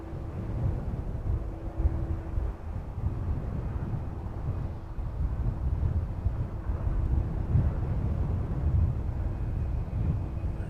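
Evening wind buffets a microphone at East Midlands Airport as a steady, rumbling roar that surges and eases slightly without a break, with no voices.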